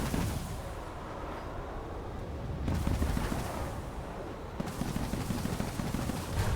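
Dense, sustained gunfire in a War Thunder air battle, a continuous rattling barrage with short pauses and surges, steady and fairly loud with no talk over it.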